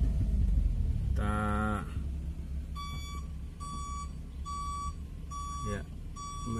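A dump truck reversing in a mountain tourist area of Ijen, giving a steady series of regular electronic beeps over engine rumble, after a brief burst of voices and noise at the start.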